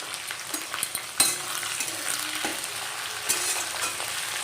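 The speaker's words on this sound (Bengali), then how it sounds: "তো এবার দেখো পেঁয়াজটাকে আমি ভেজে নেবো ভালো করে" Onions frying in a pan for mutton biryani, a continuous close crackling sizzle broken by occasional spatula scrapes and clinks against the metal, with no talk.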